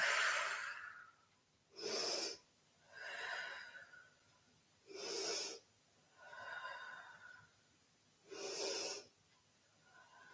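Slow exhalations during a yoga forward fold, about five long airy breaths spaced a couple of seconds apart, close and fairly clear over a quiet room, with no talking.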